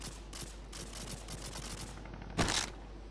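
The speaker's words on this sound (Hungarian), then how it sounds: "Itt lövöldözik." Gunfire in Call of Duty 4 comes as faint, rapid bursts of shots in irregular clusters, closing with a louder single burst near the end, with no talk.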